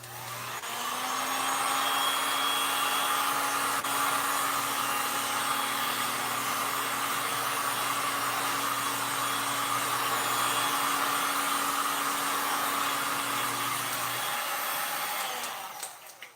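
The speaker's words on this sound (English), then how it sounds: "I'm gonna hit it with the heat gun real quick again" A heat gun blows hot air over resin in a steady, close whooshing roar that runs evenly for about fourteen seconds before cutting off and tapering away.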